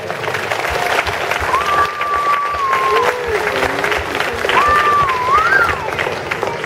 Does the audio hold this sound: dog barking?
no